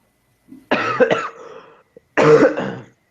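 Two loud, harsh coughing bursts close to the microphone, separated by a short pause, with a faint breath before the first.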